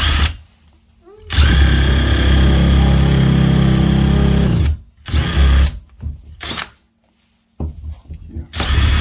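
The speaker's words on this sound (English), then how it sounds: "Go and drill this. Just a little." A power drill bores into a door hinge during a home repair meant to stop a door from dragging on the floor. It whines in one long close burst, followed by several short bursts with gaps between them.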